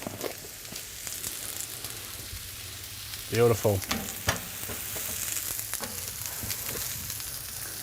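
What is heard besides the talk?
pizza slices shallow frying in oil in a pan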